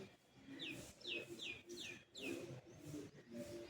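Birds chirp at a nature spot in the morning, with quick descending high tweets repeating about every half second over a soft, busy background of other distant calls.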